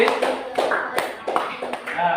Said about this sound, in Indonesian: Tepuk tangan untuk Alan